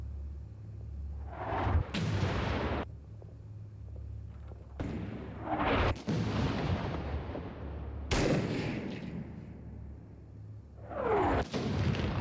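An M203 grenade launcher lobs high-explosive rounds at a building in the video game 6 Days in Fallujah, with four loud booming shots spaced a few seconds apart, each trailing off with a rumble.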